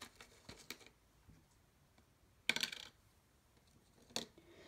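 Small hard candy pieces, including lemon drops, sweet tarts and gum, dropped one at a time into cups, producing a few sharp quiet clicks and rattles separated by near silence.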